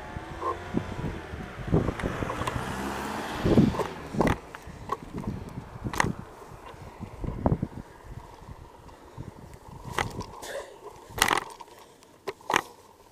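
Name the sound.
car passing by on the road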